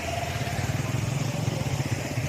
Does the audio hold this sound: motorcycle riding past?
yes